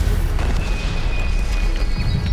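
An Incendio fire spell cast in Hogwarts Legacy, a loud, sustained rumbling burst of flame with a deep low-end roar lasting a couple of seconds, with no talk over it.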